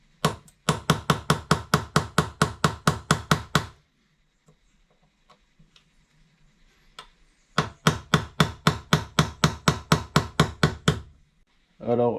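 A small pin driven out of a VW car key with a pin punch and hammer: two runs of about fifteen sharp, evenly spaced metallic taps, close and loud, separated by a quiet pause with faint handling.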